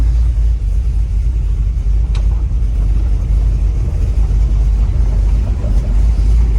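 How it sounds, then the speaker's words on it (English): A 1938 Chevy engine running with no exhaust fitted, a loud, steady low rumble and drone throughout, close up while driving. "I am going to drive it to the exhaust shop"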